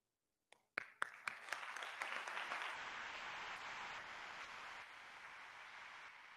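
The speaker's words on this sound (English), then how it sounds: "Please give a round of applause" At an awards ceremony, a few isolated claps start out and quickly build into sustained, even applause from an audience, steady and moderately loud to the end with no voices.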